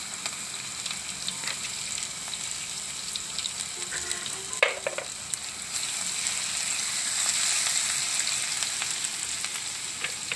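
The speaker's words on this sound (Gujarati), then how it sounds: "તો આપણું તેલ ગરમ થઈ ગયું છે તો પહેલાં આપણે જીરું નાખી દેવું અને આપણે હિંગ નાખી દેવું" Cumin, asafoetida, ginger and garlic frying in hot oil for a pea and black-eyed bean curry: a steady, close hiss and crackle of sizzling that swells slightly toward the end, with a few faint clinks.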